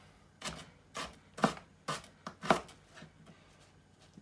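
A knife chops through an onion on a cutting board in a kitchen, giving a run of about seven crisp, evenly spaced cuts, close and fairly quiet, with no talking.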